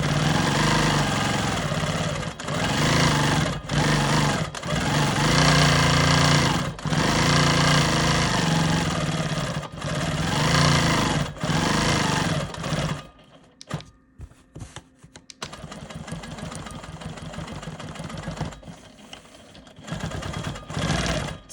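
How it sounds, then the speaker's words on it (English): A sewing machine free-motion quilts a square on a star quilt block, whirring loud and close in long runs broken by short pauses, then turning quieter and more halting toward the end. "I'm going to go ahead and free motion quilt in this square."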